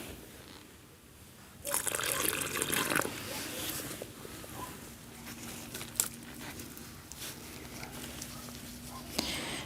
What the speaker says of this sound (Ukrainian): Зараз я тут трошки зрихлю землю, пролью водичкою.